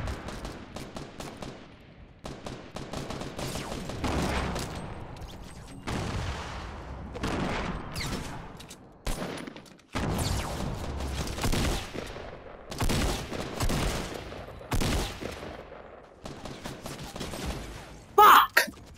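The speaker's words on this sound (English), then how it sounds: "I'm getting sniped" Gunfire rattles through a Fortnite match, including sniper fire, with loud, dense bursts of rapid shots broken by brief pauses and a few booming hits, up close and continuous.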